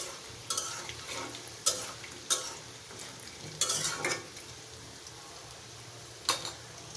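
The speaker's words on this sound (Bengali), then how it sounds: "দেখো ভেন্ডিগুলোকে 1-2 মিনিট করে এইভাবে উল্টিয়ে দিতে হবে।" Okra chips frying crisp in a pan of oil, with a steady low sizzle under several sharp clinks and scrapes as the slices are stirred and flipped over, no voices.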